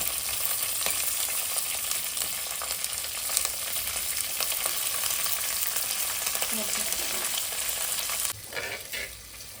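Green chillies and onion tossed into very hot oil, crackling in a loud, steady sizzle with spoon strokes stirring through it, the hiss easing slightly just before the end.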